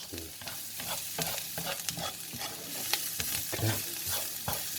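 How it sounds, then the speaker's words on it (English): Garlic and onions frying in a pan for a sausage casserole get a big stir, with repeated close scraping strokes over soft sizzling and a brief spoken word. "Let's give it a nice big stir."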